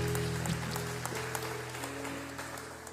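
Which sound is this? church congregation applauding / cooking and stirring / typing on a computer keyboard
church congregation applauding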